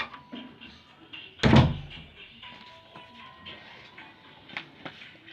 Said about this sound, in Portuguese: Tem que bater a porta.